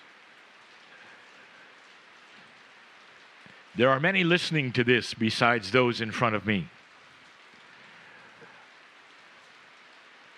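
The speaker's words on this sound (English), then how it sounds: "you may hear the sound of the rain" Steady rain falls throughout as an even, hissing wash of noise, while someone speaks calmly for a few seconds in the middle.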